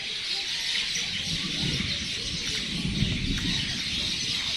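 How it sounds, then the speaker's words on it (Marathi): A dense chorus of many birds chirping and calling together at dusk, a constant bright twittering wash, with a low rumble of background noise beneath. "पक्ष्यांचा चिवचिवाट झाला आहे"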